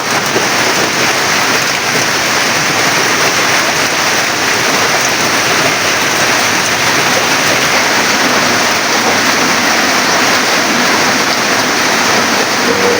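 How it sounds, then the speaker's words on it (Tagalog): Heavy rain falls at a fishpond in a dense, constant hiss and patter that stays loud and unbroken throughout, with no voices. "magang umulan ngayon sa amin ano lugar"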